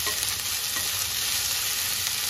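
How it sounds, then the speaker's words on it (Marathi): Onions and spring onion greens sizzle steadily in a hot pan for vangyache bharit, a continuous close frying hiss with faint stirring and no voices. "तर कांद्याची पात पण व्यवस्थित कांद्यामध्ये मिक्स करून घ्यायची आहे।"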